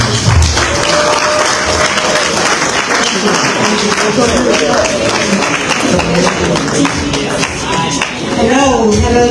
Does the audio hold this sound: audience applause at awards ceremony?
yes